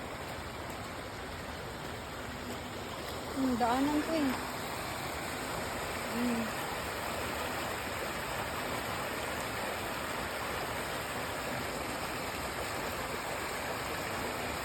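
Floodwater rushes in a constant broadband roar during heavy rain from Typhoon Dante, steady throughout, with a brief voice speaking over it partway through.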